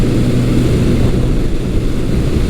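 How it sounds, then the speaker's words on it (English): A 1980 Honda CB900C four-cylinder motorcycle with an aftermarket exhaust pipe, its engine a steady, loud low drone close by, no voices. "when I do get on the throttle, it does sound like a nice 4-cylinder with a pipe"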